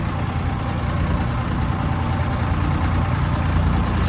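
A Ford 4000 tractor's diesel engine runs steadily, loud and close, a dense continuous rumble with no variation.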